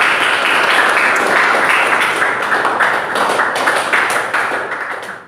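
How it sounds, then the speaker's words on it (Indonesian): Students in an Indonesian classroom clap for a classmate, a dense, loud patter of many hands with scattered taps, fading slightly at the end. "tepuk tangan buat Tegar ya"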